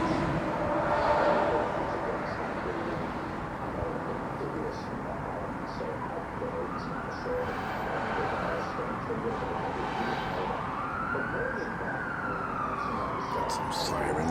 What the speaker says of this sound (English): Some sirens going in the background.